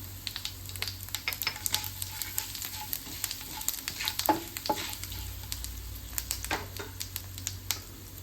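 Fennel seeds, fenugreek and asafoetida hit hot oil in a pan, a continuous close crackling sizzle with many sharp pops and spits throughout, no talking.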